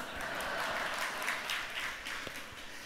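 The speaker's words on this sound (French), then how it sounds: "Là, vous pouvez applaudir aussi." A crowd applauds at a mayor's New Year wishes ceremony, steady dense clapping filling the hall from start to finish at an even level.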